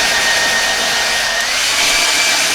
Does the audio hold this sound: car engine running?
no